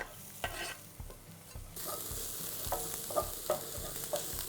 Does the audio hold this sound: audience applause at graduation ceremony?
no